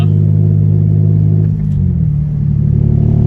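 A Mitsubishi Eclipse with a new manifold rumbles loud and close, its engine droning steadily and then shifting pitch as it accelerates, with no talk over it.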